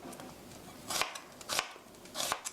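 A knife slicing a tomato into thin pieces on a cutting board, three distinct crisp chopping strokes spaced about half a second apart over soft background hiss.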